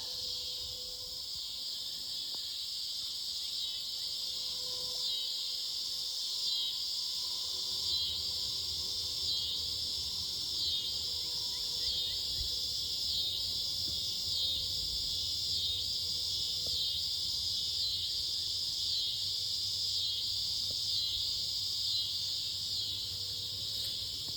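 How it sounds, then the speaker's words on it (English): Loud, steady locust buzzing drones on without pause, a dense pulsing high whine filling an otherwise quiet dusk outdoors. "The locusts are still really loud."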